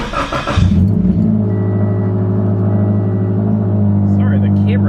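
A Subaru's engine starts up and settles into a loud, steady idle-to-driving drone close by, with a brief burst of noise at the start.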